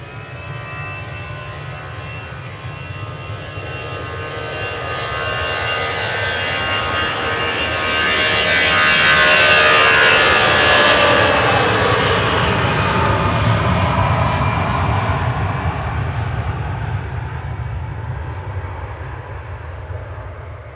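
An airliner takes off at Manchester Airport, its jet roar swelling to a loud peak near the middle, then slowly easing back while staying strong and continuous throughout.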